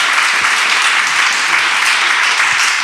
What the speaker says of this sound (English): Can we get like a round of applause for everybody who organized today?